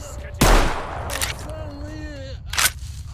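Gunfire in the video game STALKER, with a loud close shot followed by further sharper reports and a ringing tail, heard alongside game sounds.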